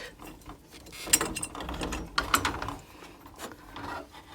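A long screw is unscrewed from the plate of a Wilo pump inside a combi boiler, giving soft, intermittent scraping and ratcheting clicks at close range with no talking.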